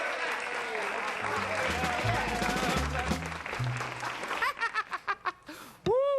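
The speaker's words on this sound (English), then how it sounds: "say hello to Harold Morrison, will you, with a nice hand clap" A studio audience on a country music TV variety show claps to greet guest Harold Morrison, dense applause under a voice and music that thins into a few separate claps before a sliding tone ends it.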